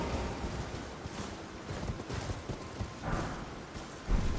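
A horse's hooves clip-clop while riding in Elden Ring. Irregular hoof strikes thud over a rough ambient bed, fairly close and moderate in level, with a heavier impact near the end.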